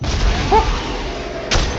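Two gunshots in the video game Dead Space 3: a sharp booming blast at the very start, then a second heavy shot about a second and a half later, both loud and close, with game ambience between them.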